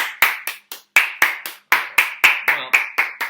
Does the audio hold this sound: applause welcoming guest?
yes